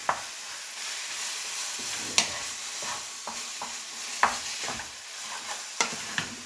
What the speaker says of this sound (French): On se mélange les deux viandes, l'oignon et l'ail